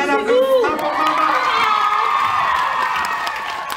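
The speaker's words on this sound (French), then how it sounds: "applaudissement pour maman!" At a birthday show in Valleyfield, an audience cheers loudly for mom, with excited shouts, children's voices and whoops rising over a scattering of claps before easing slightly toward the end.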